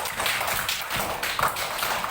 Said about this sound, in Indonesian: Kasih aplaus dulu untuk kita semua. Tepuk tangan.